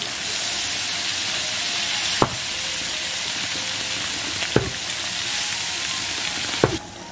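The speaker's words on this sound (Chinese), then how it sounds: "来点豆瓣酱，炒出红油；鲜辣酱，葱蒜炒香" Doubanjiang, chili sauce, scallion and garlic stir-fried in hot oil for a crocodile dish: a steady, close sizzle and hiss throughout, with three sharp clanks of a spatula or wok at intervals.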